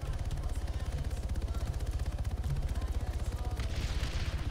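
Steady rhythmic low thudding, likely sustained gunfire in the military video game Arma 3, fairly faint and continuous with a rapid regular beat and no clear talking.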